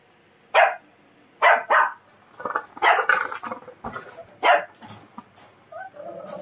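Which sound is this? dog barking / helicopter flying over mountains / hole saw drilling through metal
dog barking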